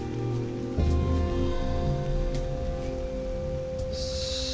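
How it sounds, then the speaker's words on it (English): Rain falls steadily in the video game Eidolon, a dense wash of hiss over a low tonal music bed, with a brighter surge of rainfall near the end and no talking. "The rain."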